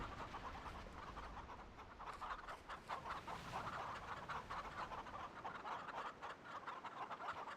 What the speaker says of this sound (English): I hear chickens but I don't see them.